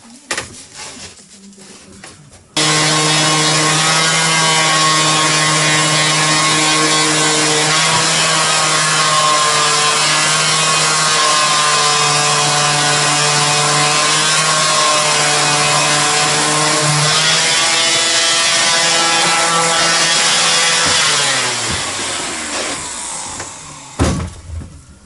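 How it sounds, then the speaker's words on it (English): A power sander works back dried wood filler on a narrowboat door, a loud steady whine that starts abruptly and runs continuously with a harmonic hum before dropping away near the end. "We'll get it sanded off."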